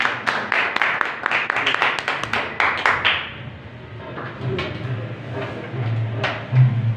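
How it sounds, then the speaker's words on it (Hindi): Church congregation claps to welcome a preacher with a quick run of sharp, close handclaps over a few seconds. The clapping then gives way to quieter talking. "हम जोरदार तालियों में खुदा के कलाम को, खुदा के खादम को वेलकम करते हैं।"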